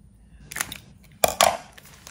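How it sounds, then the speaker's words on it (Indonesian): Scissors snipping plastic while preparing a lidah kucing cookie recipe: a few sharp, close cuts in quick pairs, separated by short pauses, over a quiet background. "ini kita gunting, jangan besar-besar, kira-kira 1 cm ya"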